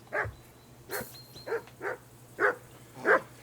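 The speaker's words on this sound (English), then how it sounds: "Call that dog, Henry. Who the hell can listen to that?" A dog barks repeatedly in the medieval role-playing game Kingdom Come Deliverance 2, six fairly faint, evenly spaced barks over a low steady hum, with no talk.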